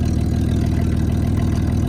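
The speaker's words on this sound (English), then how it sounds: "There, she's idling great now." A Chevrolet Camaro V8 idles steadily up close, a loud, even low rumble with a regular lumpy pulse and no voices.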